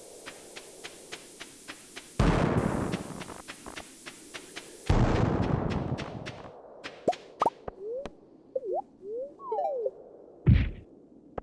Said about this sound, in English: I'm out of mega bombs. So now it's just time for normal bombs.